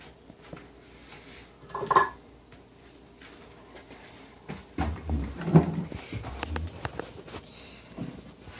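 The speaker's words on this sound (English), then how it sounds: "Let me come find a spoon." Kitchen utensils clatter in two quiet bursts as someone rummages for a spoon, with a short clink early on and a longer jumble of scraping and knocking later.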